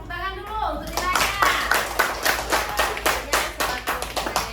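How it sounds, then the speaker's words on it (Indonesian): Children in a classroom clap together in a quick, fairly regular rhythm, a run of about a dozen sharp claps after a voice speaks briefly at the start. "Cepat tepuk tangan dulu untuk nilainya."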